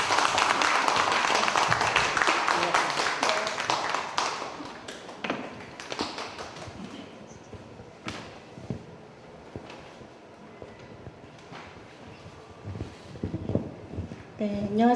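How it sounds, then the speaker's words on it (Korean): An audience at a Korean book talk applauds a scholar and author walking onto the stage, dense clapping at first that thins to scattered claps, with a host talking over the end. "박수 부탁드립니다."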